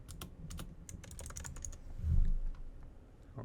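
A computer keyboard is typed on in quick bursts of close, crisp key clicks. The typing is brisk at first, then becomes sparser with a soft thump in the middle.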